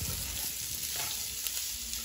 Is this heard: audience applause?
no